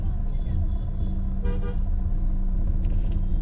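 A car rolls along in second gear with no throttle applied, giving a steady low engine drone and road rumble, with a short horn toot from traffic partway through.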